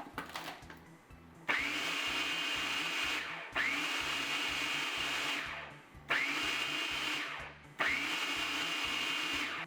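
A food processor pulses dry crumble dough for strawberry bars, four long whirring bursts with brief pauses between them, loud and close, with no talking.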